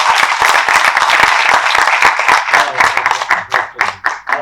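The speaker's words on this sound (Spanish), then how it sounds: "Yo pido un aplauso para ellos, porque creo que lo han hecho muy bien." A seated audience at a round-table debate on Cartagena's historic heritage breaks into steady applause, many hands clapping close together, loud and continuous, then thinning into scattered individual claps near the end.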